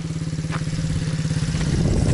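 An MRF 80cc motorcycle engine ridden by a five-year-old child runs close by with a steady, rapid putter that rises into a louder, rougher rev toward the end.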